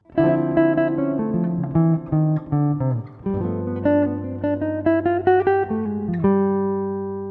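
An electric guitar plays a quick, clean jazz lick of single notes settling onto a sustained minor chord at the end.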